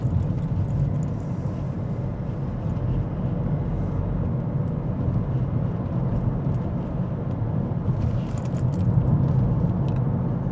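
A Proton S70 sedan drives along, the steady low road and engine rumble heard from inside the cabin, with faint light rattles above it and no speech.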